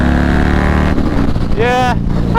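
A Kawasaki Z900 motorcycle engine drones steadily and loudly up close, then rises sharply in pitch as it revs in the final second.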